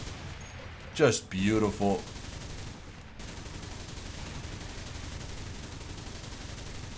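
Steady, dense rumble of continuous anti-aircraft cannon fire in War Thunder, holding an even level throughout, with someone briefly speaking over it near the start.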